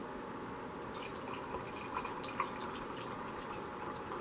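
A drink poured into a glass, with soft trickling and small splashes and drips over a steady low background, quiet and close throughout.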